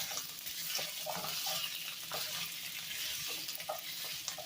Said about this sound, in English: I'm just going to give it a bit of a stir.